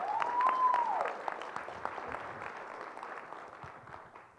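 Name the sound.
audience applause at a conference talk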